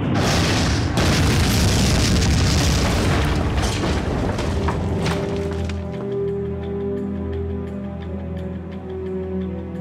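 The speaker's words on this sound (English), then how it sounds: "for the first time in history, Hitler's enemies would become the victims of his ultimate weapon, the V2" A WWII V2 rocket strike lands as a massive, deep explosion. The rolling roar holds loud for about five seconds, then fades under sustained orchestral music.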